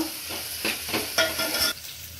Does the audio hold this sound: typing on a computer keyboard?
no